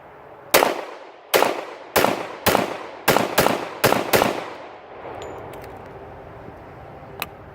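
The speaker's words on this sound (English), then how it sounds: "Let's empty this mag out and see how it sounds now." A handgun fires a full magazine after the gun has been cleaned, eight sharp, loud shots in a quick, slightly uneven rhythm with ringing echo, then quieter room noise and a couple of faint clicks.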